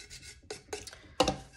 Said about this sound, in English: just scrape, scrape, scrape until you think you're done scraping